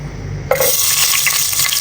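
Garlic hits hot oil in a cooking pan with an abrupt, loud sizzle that keeps crackling steadily up close, with no talk.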